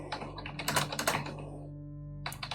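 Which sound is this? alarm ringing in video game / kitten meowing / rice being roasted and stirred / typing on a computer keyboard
typing on a computer keyboard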